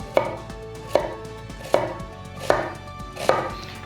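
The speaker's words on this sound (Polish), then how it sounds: "nożami europejskimi, którymi kroiłem, kroiłem cebulę tak." A European kitchen knife chops an onion on a cutting board five times at an even, unhurried pace, each sharp thunk ringing briefly.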